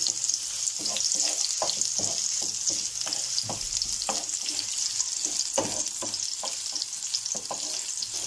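Garlic and onion frying in a pan for a home-cooked dish, a steady bright sizzle with scattered clicks and scrapes of stirring throughout, close and continuous with no talking.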